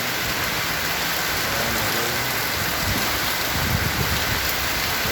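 A heavy downpour drums on surfaces in a thick, steady wash of noise, loud and close, with low thuds of drops mixed in and no one speaking.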